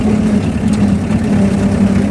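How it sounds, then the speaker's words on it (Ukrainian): A tractor engine pulling a heavy trailer loaded with firewood runs at a steady, loud drone in third gear, with no voices over it. "Але нічого страшного, це трактор, йому потрібно працювати."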